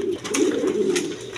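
A pair of white Shirazi pigeons coo nearby, a low rolling coo with soft breathy accents, close and clear with no talk over it.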